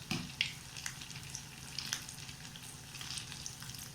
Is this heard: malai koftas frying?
yes